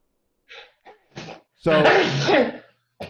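A few short breathy sounds build up to one loud, forceful sneeze, followed by a brief silence.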